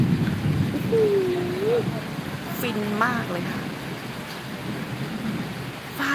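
Steady rain hiss with low rumbling thunder throughout, while someone speaks briefly over the storm at Doi Luang Chiang Dao, Thailand.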